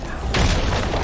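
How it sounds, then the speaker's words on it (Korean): A turret is destroyed in League of Legends with a single heavy boom and crumbling burst, loud and brief, filling the short moment. "파랑 팀의 포탑이 파괴되었습니다."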